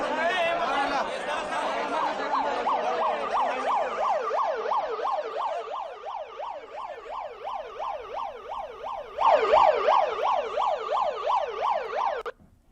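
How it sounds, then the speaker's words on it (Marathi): Ambulance siren wailing in a rapid, regular up-and-down sweep, fairly close and loud, growing stronger near the end, with crowd chatter and voices in the background. "रुग्णवाहिका येताना आपल्याला दिसते"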